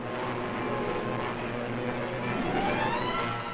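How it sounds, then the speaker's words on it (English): WWII fighter aircraft on patrol, engines droning in flight as a steady, fairly loud hum that holds evenly throughout. "Enemy planes."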